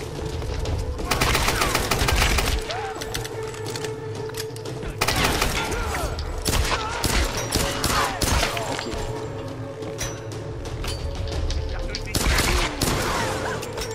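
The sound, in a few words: gunfire in the video game Tomb Raider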